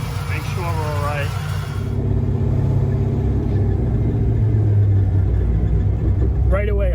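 Camaro with a freshly built forged 6.0 V8 idling as it warms up, a steady close low rumble with a faint lope, while a person talks over it at the start and end.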